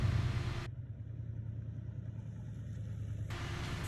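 A rough V12 engine in a rat rod rumbles steadily up close through a bad exhaust, its low throbbing note continuous and slightly uneven.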